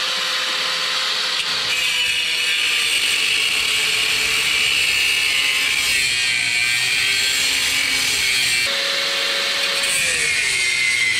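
A cheap $15 Harbor Freight angle grinder cuts through the front suspension of a 1988 Toyota pickup during a solid axle swap, a loud, continuous high-pitched grinding whine that runs steadily for several seconds with slight pitch shifts.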